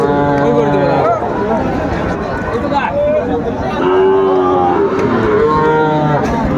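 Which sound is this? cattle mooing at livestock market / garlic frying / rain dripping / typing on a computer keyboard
cattle mooing at livestock market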